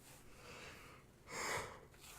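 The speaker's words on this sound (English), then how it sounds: "I gotta stop yawning." A person yawns once, a drawn-out breathy intake swelling to a loud peak and fading, heard close up with no talking.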